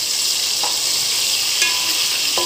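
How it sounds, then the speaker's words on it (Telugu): Dried red chillies fry in hot oil for a restaurant-style chicken gravy curry, a loud, even, close sizzle with light spoon stirs and a couple of faint clinks, without any talking. "ఇందులో ఎండుమిర్చి చేసి లైట్గా ఫ్రై చేయండి"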